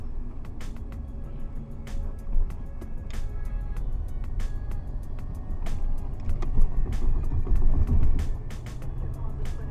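Steady low engine drone and road rumble inside an old Renault Laguna on the move, with faint interior clicks and creaks over the continuous hum.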